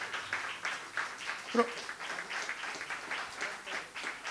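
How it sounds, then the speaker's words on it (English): An audience applauds the support and housekeeping staff at an orchestra event with a sustained, even round of clapping from many hands, moderately loud and filling the hall without pause. "Let's all give them a generous round of applause."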